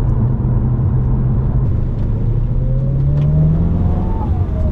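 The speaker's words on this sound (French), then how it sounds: "Ces dump valves sont parfaitement pitoyables." A turbocharged car engine revs hard with a loud, steady roar, pitch climbing gradually under load while faint hissing bursts from the dump valves sit beneath the engine note.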